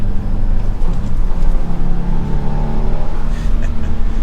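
A 2024 Subaru WRX TR engine revs and drones steadily while rev matching, its pitch rising and falling through quick blips, loud and close as if heard from inside the cabin.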